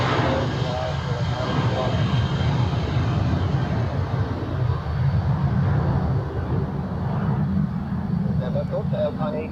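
Eurowings airliner at Zurich Airport, a broad, steady engine roar holding at a loud level throughout, with faint radio or voice sounds underneath.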